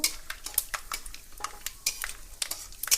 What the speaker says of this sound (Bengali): বাদামটা ভালো করে একটু হালকা লাল লাল করে ভেজে নেব।